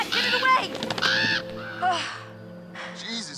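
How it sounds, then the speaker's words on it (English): Crows cawing in the Until Dawn video game, several harsh, repeated caws close by with short gaps between, as a bird attacks. "That crow really hated Walmart."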